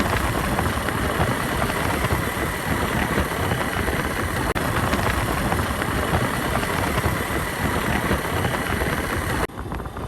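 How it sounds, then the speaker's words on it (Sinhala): A Ranomoto scooter's engine and gearbox run with a steady, loud, continuous mechanical drone, close by and without speech, until it drops off abruptly near the end. "සාමාන්‍යයෙන් අපි ස්කූටර් එකක් පදිනකොට මේ හඬ විතරයි අපිට එන්න ඕනේ අනිවාර්යයෙන්ම."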